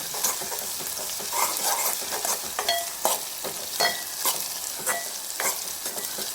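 Onions fry in a hot pan while being stirred briskly: a continuous close sizzle with repeated scraping strokes of a spoon against the pan and no talking.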